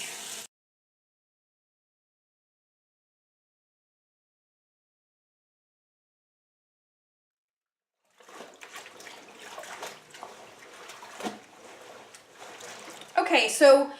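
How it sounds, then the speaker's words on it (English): Water running from a tap into a plugged sink for a warm detergent soak, a steady splashing trickle that starts after a long silence and grows louder toward the end. "I'm going to plug this up and give us a nice warm sink bath with some detergent"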